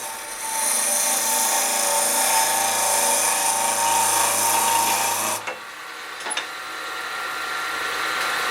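A wood lathe spins as a Crown Revolution Super Ring tool cuts wood, giving a steady, loud whirring hum with shaving noise that stops abruptly partway, leaving quieter room sound and a few light knocks.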